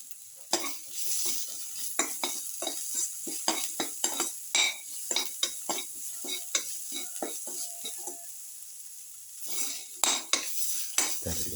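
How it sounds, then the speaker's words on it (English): A garlic, eggplant and tomato mixture sautéing in a pan, with a soft sizzle under frequent close utensil scrapes and clinks against the pan as it is stirred thoroughly, no talking. "Thoroughly saute mix."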